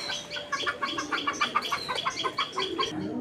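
Raj Golla pigeons coo in a quick run of soft, evenly spaced pulses, close by and fairly quiet, with no talking.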